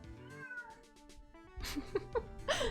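A pet cat meows several times in a row, drawn-out nasal cries rising and falling, close and fairly loud with the last calls growing stronger.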